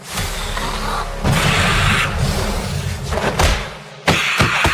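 Loud explosion effects at a music event hit with heavy booming bursts and crashing, debris-like noise, one blast after another, ending in a sharp final burst.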